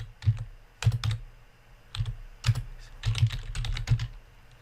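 Someone types on a computer keyboard while entering text into a comments field, giving short bursts of soft close keystrokes separated by brief pauses, with no talking.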